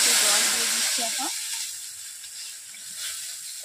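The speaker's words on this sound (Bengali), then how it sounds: "কড়াই গরম হয়ে গেছে, কড়াইতে জল দিয়ে দিচ্ছি" Water poured into a hot wok over a stove burst into a loud steamy hiss that fades over a few seconds into a quieter simmering sizzle.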